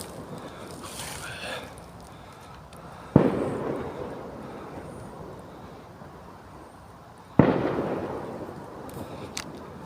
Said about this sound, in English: Got fireworks going off now